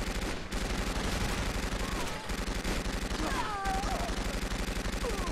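Automatic BR77 battle rifle fire in Fallout 4, a loud, sustained rapid rattle of shots broken by brief pauses, with whining enemy sounds mixed in.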